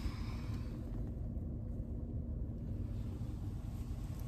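Strong wind of about 50 to 60 km/h during a heavy snowstorm at minus 30 degrees on a road in America, heard as a steady, loud low roar and buffeting rumble on the microphone, unbroken for the whole stretch with no talk.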